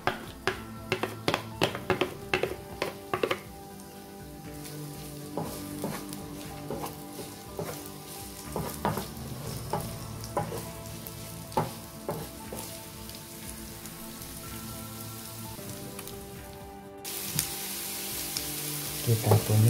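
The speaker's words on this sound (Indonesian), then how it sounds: "Masukkan bawang putih sama bawang merah dan cabai, kita tumis berbarengan." Garlic, shallots and chili sauté together in a pan for a papaya flower stir-fry, with a constant hiss of frying under repeated sharp spatula taps and scrapes, and the sizzle swelling louder toward the end.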